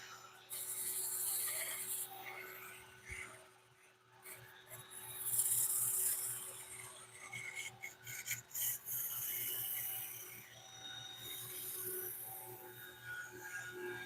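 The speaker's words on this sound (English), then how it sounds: "I'm going to go ahead and sand the surface a little bit" A soft, raspy rubbing of sandpaper against a wooden plate spinning on a lathe, coming in steady pulses with a faint motor hum underneath.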